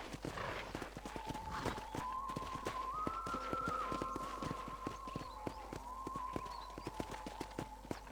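Horse hooves clip-clop at a steady walking pace in the Red Dead Redemption video game, evenly spaced hoof strikes heard clearly over a quiet ranch ambience and a faint sustained musical tone, with no speech.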